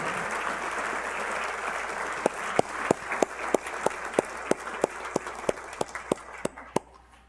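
At an education awards ceremony, a crowd applauds finalists with a steady wash of clapping, while one nearby person claps in a loud, regular rhythm over it before the applause fades out.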